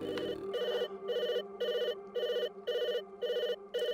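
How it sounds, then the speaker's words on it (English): A telephone rings at the Hawkins Post in the Stranger Things 3 video game, sounding as a steady electronic bell in seven even bursts, loud and close, with no talk over it. "Answer the phone at the Hawkins Post."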